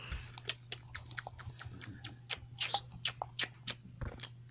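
A pig chews a mushroom close up, producing a steady series of soft, wet crunching bites over a low background hum.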